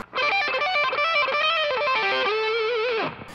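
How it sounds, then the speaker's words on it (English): A distorted electric guitar plays a short fast phrase ending on a sustained note that cuts off abruptly, crunchy tone throughout from the amp's dirty channel with no pedal. "So here's the distortion straight out of the amp."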